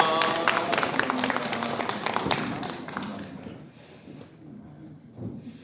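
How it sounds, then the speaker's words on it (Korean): Church congregation at a Sunday service clapping to welcome holiday visitors, dense applause for about three seconds that then dies away into quieter room sound with scattered taps. "큰 박수로 환영해 주시기 바랍니다"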